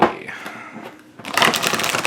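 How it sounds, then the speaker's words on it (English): An Everyday Enchantment card deck being shuffled by hand: a soft riffle first, then a louder, rapid flutter of cards snapping together close up. "It shuffles really nicely."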